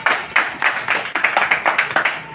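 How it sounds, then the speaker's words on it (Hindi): A group of people at a meeting clap their hands in a steady, rhythmic run of about a dozen loud, close claps at an even pace, with no talking over them. "उनके लिए ताली बजी चाहिए।"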